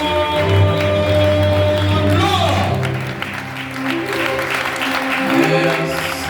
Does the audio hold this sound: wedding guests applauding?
yes